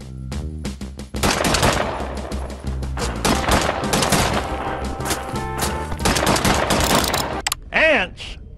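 Gunfire in a retro Wolfenstein-style secret level of a video game, with rapid bursts of machine-gun fire and loud repeated shots over game music, while a voice talks over the shooting.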